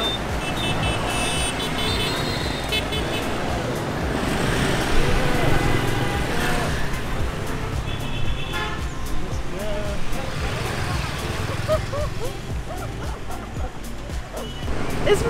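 Busy Hanoi street traffic: a continuous roar of passing cars and motorbikes, with scattered horn beeps, under people talking nearby and some dog barking.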